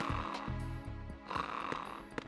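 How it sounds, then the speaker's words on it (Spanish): A sleeping guard snores in the video game Metal Gear Solid 2, with long rasping inhaled snores close and steady across the clip, over faint game background sound. "¿Quién me está roncando por aquí?"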